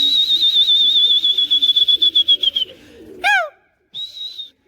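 Pet pigeons at a rooftop loft, with a loud sustained whistle-like tone, then a rapid burst of descending chirps and a shorter whistle, close and clear.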